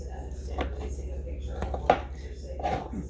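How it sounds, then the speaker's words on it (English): Knife strikes against a cutting board in a few irregular, close taps, with a steady low hum underneath. "I'm chopping it all up. This is how I'm cutting it."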